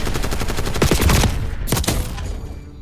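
Rapid gunfire in the video game Black Ops 6 beta, dense bursts of shots in quick rhythm rising to a loud volley and then cutting off, close and alone.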